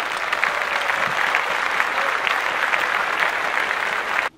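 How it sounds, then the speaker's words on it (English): Dense applause from a crowd, steady and loud for about four seconds before cutting off abruptly. "So you guys should give me a round of applause."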